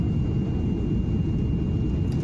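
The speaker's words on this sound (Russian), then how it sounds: "Самолет снижается очень плавно, незаметно, очень комфортно." Steady low rumbling cabin drone inside a Tui fly airliner descending toward Brussels, continuous and even with no voices.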